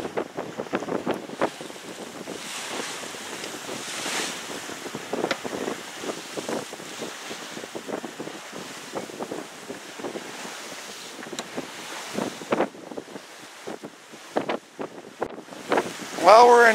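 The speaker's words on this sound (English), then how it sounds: "We raised the mainsail and the jib and are sailing under wind power alone." Sailboat under mainsail and jib on San Francisco Bay with the motor off, moving on wind power alone: steady wind buffeting and washing water fill the clip, with scattered knocks and rattles from the boat.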